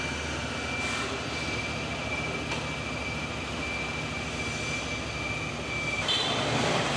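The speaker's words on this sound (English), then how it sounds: "Technicians check that the lights and horn are working before testing the engine and controls on a dyno." A Honda Africa Twin CRF1000L motorcycle engine runs on a factory dyno, a steady droning roar with a sustained whine over broad rumbling noise, constant in level throughout with no talk.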